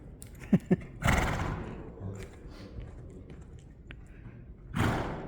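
A horse blows out short breaths as it canters, with a couple of sharp snorts near the start and another strong exhalation at the end, close by over a low background rumble.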